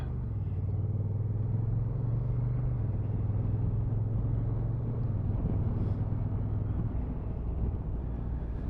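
A Honda NT1100 motorcycle with DCT rounds a corner, its engine a steady low rumble that dips and shifts in pitch midway, heard close and continuous with no talk.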